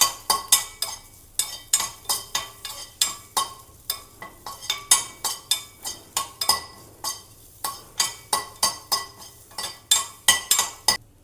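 Crushed garlic stirred with a utensil in a pan while roasting until brown, giving a steady run of sharp metallic clinks and scrapes at a brisk rhythm, close and clear with no talking.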